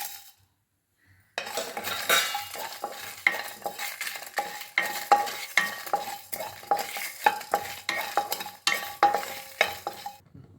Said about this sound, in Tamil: கடாய் காஞ்சிருச்சு. இப்போ இந்த எடுத்து வச்ச ஜாமான்லாம் வறுத்துருவோம்.